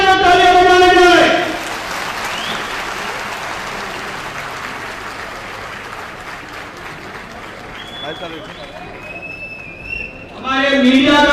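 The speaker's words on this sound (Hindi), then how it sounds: "एक बार फिर से जोरदार तालियां बजाई जाए।" A crowd at a political rally applauds in a sustained, fairly loud wash of clapping, with amplified chanting or speech before and after it.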